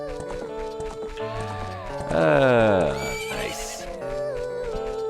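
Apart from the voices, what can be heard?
horse in video game Ocarina of Time 3D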